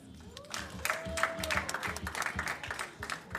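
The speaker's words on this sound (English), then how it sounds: "Clap for yourselves." Graduating cohort of the Education Change Makers program clapping for themselves at a commencement: scattered, uneven applause building from a few hands into a fuller clatter, fairly close, with voices murmuring beneath.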